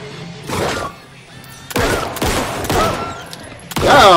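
Bursts of gunfire in the survival horror game Alan Wake 2, with several loud clusters of shots separated by brief gaps and a final heavy volley at the end.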